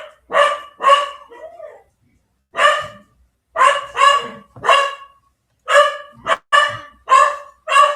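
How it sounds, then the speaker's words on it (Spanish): A small pet dog barks in sharp, close bursts, mostly in pairs and quick clusters with short silent gaps between them. "Perdón, mi perrito."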